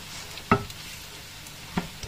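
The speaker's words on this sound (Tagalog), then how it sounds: "Gisa natin yung ating sibuyas bawang." Onion and garlic sautéing in a pan, a faint steady sizzle with two soft clinks of a utensil stirring.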